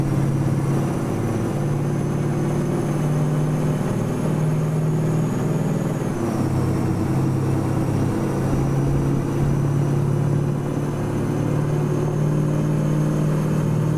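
A Mack V8 truck with a turbo, hauling in American Truck Simulator, hums at a steady low drone while cruising, with a shift in pitch midway and no dump valve hiss.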